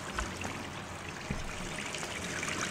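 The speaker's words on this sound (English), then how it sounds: "I left all the water on." Tap water left running in the video game Gone Home, a steady, soft trickling stream heard alone at low level without a break.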